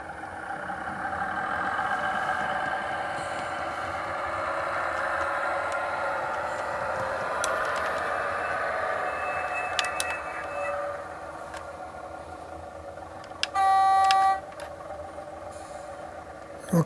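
A DCC model diesel railcar, a small 1930s to 1950s English self-propelled car, runs with sound: a steady soft engine hum throughout, a brief chime near the middle and a short, sharp horn blast near the end.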